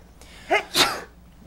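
A single sharp human sneeze in an indoor board meeting room: a quick inhaled buildup followed by a loud, breathy burst, then quiet room tone.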